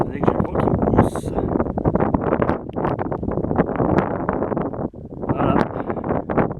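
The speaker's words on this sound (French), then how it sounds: "j'ai le vent qui me pousse" Wind gusting hard against the microphone on an autumn hike in Essonne, a steady, rough broadband roar that swells and buffets throughout, briefly dropping near the end.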